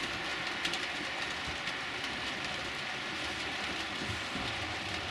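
Model railway Deltic diesel locomotive sound effect playing as a model train runs on a layout, a steady dense engine drone with light track clatter throughout, constant level and no talking.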